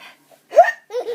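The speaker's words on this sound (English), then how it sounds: "You got the hiccups?" A baby's hiccups: a couple of short, sharp vocal hics in quick succession, close and fairly loud, with a brief gap of quiet between them.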